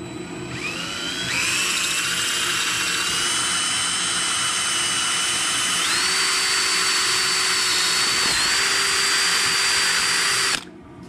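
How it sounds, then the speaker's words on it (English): A drill runs steadily for about ten seconds, boring through with a 1/2 inch bit from the inside out on a fire extinguisher airsoft build, its whine shifting pitch midway before cutting off abruptly. "get your 1/2 inch drill bit, get that in there, and we're going to drill from the inside out"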